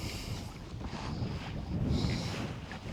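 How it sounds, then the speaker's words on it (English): A strong gust of wind roars steadily across a kayak on the Missouri River, a broad, rushing blast of wind on the microphone that swells louder toward the middle and carries on without letup, with no talking. "there's one that's about to hit now, and it'll blow really hard for a little bit and then stop"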